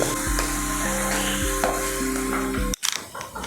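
Powdered fenugreek tipped into hot oil for a homemade lemon pickle, giving a loud, steady sizzle with a stirring scrape, then a sudden sharp drop and a brief rustle near the end.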